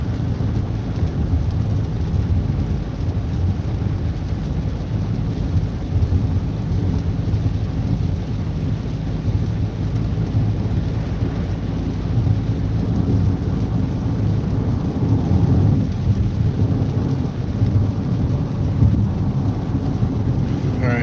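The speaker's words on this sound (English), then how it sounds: "These roads are so fucking rainy." Rain pours and thunder rolls around a car driving slowly on rainy downtown roads, a continuous heavy low roar that swells briefly near the end, loud and close, with faint talk underneath.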